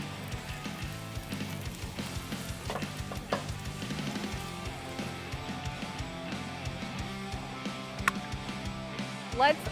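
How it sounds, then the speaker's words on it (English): Steady sizzling and crackling of egg rolls shallow frying seam side down in hot oil, with occasional pops and small clinks throughout. "put these seam side down and start shallow frying them"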